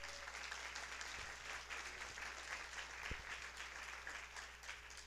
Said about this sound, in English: So let's give a round of applause to our panelists this evening.